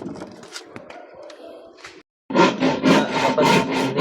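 A handsaw cuts through hard material in quick, rough back-and-forth strokes. A quieter stretch of scraping comes first, then a short pause, then louder, steady sawing close by.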